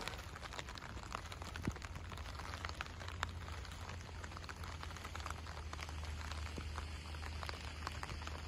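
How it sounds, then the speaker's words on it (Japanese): Steady rain falls outdoors at a groundskeeper's site in Japan, a dense even patter with scattered sharper drops, continuous and fairly close throughout, with no talking. "そして今ちょっとまた雨が強くなってきております。"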